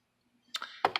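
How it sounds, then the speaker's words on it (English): A few keystrokes on an IBM 5251 beamspring keyboard, heard close and alone as a couple of sharp, ringing clicks after near silence. "you can do all the basic typing and stuff that you would do on any old keyboard"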